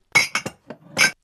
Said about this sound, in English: Vinay, get a glass of water. Place it on the table